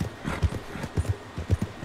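Horse hooves clip-clop in a steady trotting rhythm in the open-world western game Red Dead Redemption 2, close and moderately loud with no talk over them.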